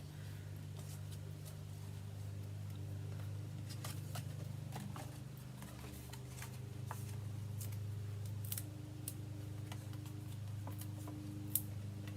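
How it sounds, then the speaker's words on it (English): Scissors snip green seaweed paper pieces in half for a craft, with light irregular clicks and cuts spread over a steady low hum, faint and close. "we're going to cut those in half"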